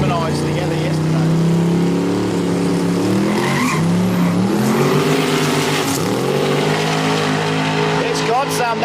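A turbo LS-powered Holden Gemini drag car at a quick street drag racing event roars loudly with a shifting engine pitch, heard under continuous commentary from the announcer.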